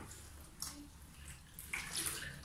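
Synthetic fiber wig and its cap being washed in cold running water, a soft steady splash and trickle with brief louder gushes near the end, close and quiet with no talking.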